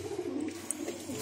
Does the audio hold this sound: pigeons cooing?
yes